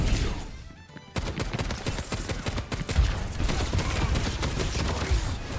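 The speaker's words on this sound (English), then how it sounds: "Was that Soldier 76 just shooting one bullet at a time?" Soldier 76 fires his rifle in the Overwatch video game, a dense run of sharp gunshots over loud in-game combat noise, steady throughout after a brief quieter stretch at the start.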